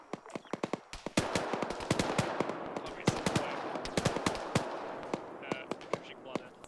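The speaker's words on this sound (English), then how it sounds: "Who is shooting on our right side?" Video game gunfire in Task Force Athena from an unseen shooter off to the right: rapid, irregular bursts of sharp cracks and automatic fire over a rumbling background, fairly close and loud.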